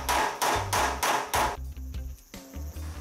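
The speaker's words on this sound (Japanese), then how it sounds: "流しハンマ" Hand hammer shaping sheet-metal body panels while restoring an old 'Daruma' Toyota Celica: five loud, evenly spaced metallic blows up close, followed by softer, quicker taps and scraping.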